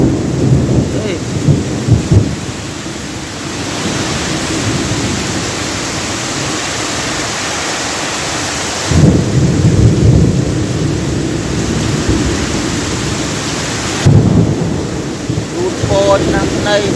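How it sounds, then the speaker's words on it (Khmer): Heavy rain pours in a constant loud roar, broken by several deep thunder rumbles that swell and fade, with a voice briefly audible early on. "ខ្ញុំបានភ្លៀងច្រើនណាស់នេះ"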